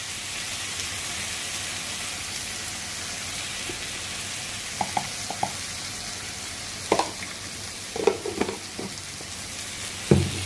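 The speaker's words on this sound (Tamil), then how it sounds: "இந்த மாதிரி மிளகா பொடி போட்டுட்டு அதிலே எண்ணெயிலே நல்லா வதக்கிட்டோம்னா" Sambar chili powder sautéing in hot oil for garlic tamarind kuzhambu gives a steady, close sizzle, with a few sharp clinks of stirring toward the end.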